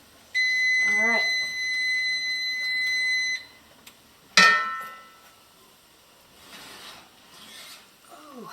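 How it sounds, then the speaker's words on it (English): A kitchen timer beeps loudly in a home kitchen while chicken paprikash cooks, a sustained shrill electronic tone lasting about three seconds, followed by a short clatter and a person speaking. "Not the thermometer, the timer."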